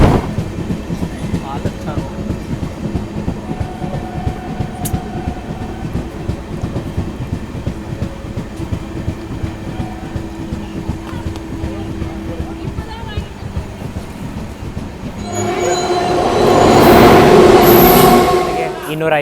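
The Brindavan Express rolls along the rails near Arakkonam with a steady rumble and rhythmic clatter, and a loud metallic squeal rises near the end.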